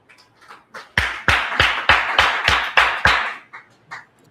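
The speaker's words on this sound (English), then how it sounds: "Let's clap for her." A small audience at a storytelling session claps for a participant in a short burst of about ten sharp, close claps that build and then trail off into a few scattered ones.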